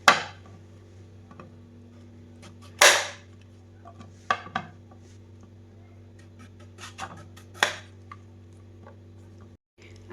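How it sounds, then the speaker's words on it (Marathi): A knife cuts through the stalk end of a raw green mango, giving a few sharp, close clicks and scrapes spread across a quiet stretch over a steady low hum. "सुरुवातीला कैरीचा हा देठाकडचा भाग आहे तो मी हे असा कापून घेणार आहे."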